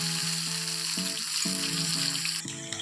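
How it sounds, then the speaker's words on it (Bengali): Bay leaf and cinnamon frying in hot oil for a chicken roast, heard as a loud, steady, close sizzle with a continuous hiss throughout, joined by a faint tonal hum from the kitchen. "তেল গরম হলে তেজপাতা ও দারুচিনি দেওয়া হলো"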